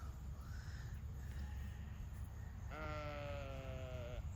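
A single sheep on a farm lets out one drawn-out bleat near the end, rising out of a steady outdoor rumble with faint fainter calls earlier.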